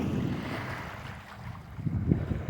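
Sailboat under way on open water near Key West reef, with waves slapping the hull and steady wind rumble across the microphone, broadband and continuous with a louder surge near the end.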